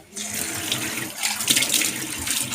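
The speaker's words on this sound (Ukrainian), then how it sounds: "Отут я наберу води" Tap water runs into a glass at a kitchen sink in Switzerland, a close, steady hissing splash that continues without a break and with no voices.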